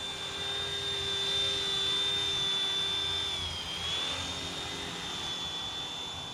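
A small RC helicopter whines steadily as its motor runs, with a high, sustained tone that dips briefly and then climbs back as the throttle changes. A low whirring rotor hum sits underneath, and no one speaks.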